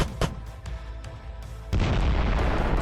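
Heavy booms and sharp bursts of drone strike explosions on enemy positions in a village, followed by a sudden sustained roar of loud noise, with no talking.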